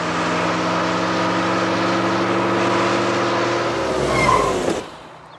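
A car chasing and overtaking a bus, its engine droning steadily up close before a brief rising tire squeal, then cutting off abruptly into near silence.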